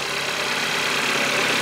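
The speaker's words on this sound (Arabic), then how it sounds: "محرك السيارة هذا هو" A Fiat 500 with a 1400 cc four-cylinder, 100-horsepower engine idles steadily, a constant even hum heard up close with no speech over it.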